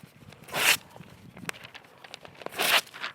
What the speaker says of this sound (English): Rip a strip.